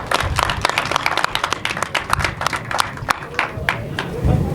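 Audience applause at the inauguration of a new solar power plant in Mbane, Senegal: a steady patter of many hands clapping at moderate distance, with uneven individual claps standing out and no talk over it.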